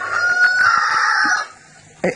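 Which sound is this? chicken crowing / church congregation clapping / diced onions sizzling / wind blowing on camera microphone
chicken crowing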